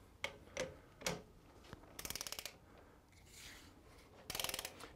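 A hand ratchet tightens a fastener toward about 3,000 pounds of clamp load, giving a few separate clicks and then two quick rattling bursts of pawl clicks, close and crisp.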